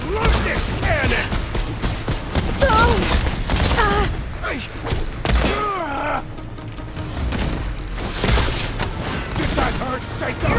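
Heavy cannon fire rings out in the video game Horizon Forbidden West: Burning Shores, loud repeated blasts in rapid bursts mixed with combat effects and voices talking over the action.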